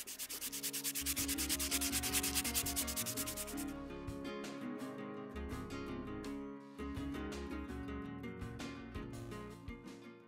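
Paua shell being polished by hand with a steady, close rubbing and sanding scrape, fast and rhythmic at first, then slower, uneven strokes.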